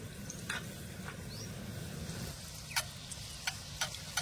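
Phuljhuri pitha fries quietly in hot oil on low heat, a faint steady sizzle broken by a few sharp spattering crackles as oil is splashed over the top.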